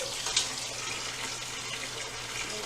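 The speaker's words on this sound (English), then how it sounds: "Run water in that." Water runs steadily from a kitchen tap while blueberry jalapeno jelly is being made, a continuous hissing splash with no voices.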